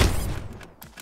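Video game gunfire opens with a loud burst that fades, followed by a few quieter sharp shots spaced out near the end.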